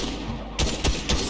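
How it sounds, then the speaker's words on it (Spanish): Gunfire in the Fortnite video game sounds as three sharp bursts over a low background hum, fairly quiet in the mix. "Michael, si te están dando tiros, yo como me muevo."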